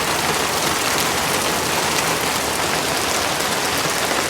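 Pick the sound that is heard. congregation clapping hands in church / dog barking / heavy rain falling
heavy rain falling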